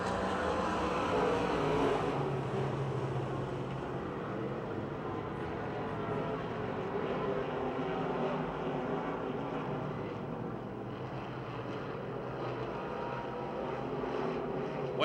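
Dirt track race cars roar around the oval at Pennsylvania Motor Speedway, Pittsburgh, as the leaders head into turn 1, a steady, dense engine drone with wind noise that holds loud throughout, under faint commentary.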